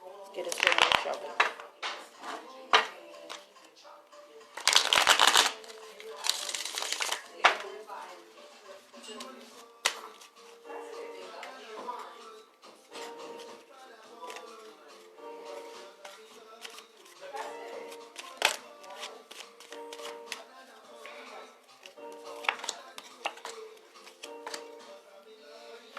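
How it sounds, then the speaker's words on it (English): Tarot cards are shuffled by hand in a quiet room, giving crisp riffling bursts with dense ticking and flapping, loudest near the start and continuing more softly at intervals. "I took a little extra long to shuffle this again"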